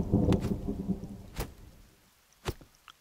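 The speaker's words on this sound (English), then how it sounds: "Is there any way I can summon a rain wizard and stop it from raining?" Rain and rumbling thunder in the survival video game The Forest: a low, rolling rumble fades out beneath steady rainfall, punctuated by a few sharp, close cracks.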